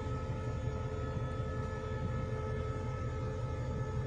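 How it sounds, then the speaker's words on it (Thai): Rapid train no. 172 pulls out of Phatthalung railway station in Thailand with a steady low rumble and mechanical drone, a faint high tone over it, moderately distant and unbroken, with no voices. "เวลารถเร็วที่172ออกสถานีรถไฟพัทลุงแล้วนะครับ"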